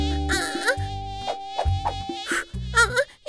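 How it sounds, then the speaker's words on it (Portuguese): A mosquito buzzes in a children's cartoon about a cat family, a whiny, wavering drone that swoops up and down over bouncy background music. "O que devemos fazer quando um mosquito nos picar?"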